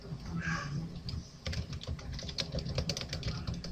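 Keystrokes on a computer keyboard, a steady run of close, crisp clicks that carries on for most of the stretch, with a brief soft tone near the start.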